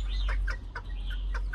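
Bantam hybrid chickens cluck at close range in a rhythmic series of short calls, with a steady low background rumble and no one speaking.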